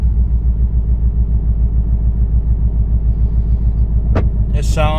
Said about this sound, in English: The motor sounds a lot better.